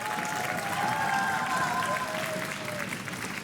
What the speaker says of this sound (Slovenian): en aplavz seveda